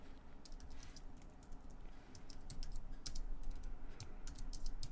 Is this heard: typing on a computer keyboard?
yes